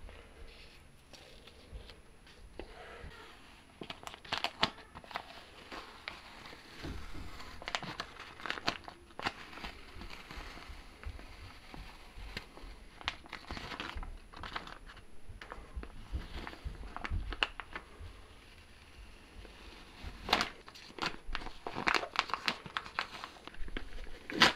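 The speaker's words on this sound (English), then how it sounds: "and then we can take our contact paper off." Contact paper being peeled off a vinyl stencil on a dyeable disc, with repeated crinkling, crackling tears and soft handling noises at close range, in irregular bursts.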